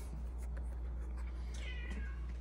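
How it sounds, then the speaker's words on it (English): A cat meows a couple of times, faint and somewhat distant, over a low steady background hum with no one talking. "Sorry for the cat in the background."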